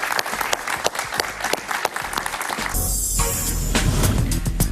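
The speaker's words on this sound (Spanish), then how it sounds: "Un aplauso para él." Audience applause rises at a live talk-show taping, a dense wash of clapping that thickens and swells into a loud, sustained ovation toward the end.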